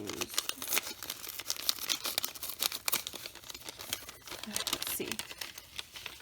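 Close, busy crinkling and tearing of a taped paper gift bag as it is opened, sharp rustles crowding together, with a brief quiet word spoken.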